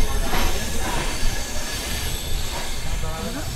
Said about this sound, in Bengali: তো আমাদের ট্রেনটা এখন বিমানবন্দর রেল স্টেশনে প্রবেশ করতেছে।